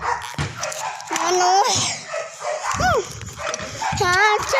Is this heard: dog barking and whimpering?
yes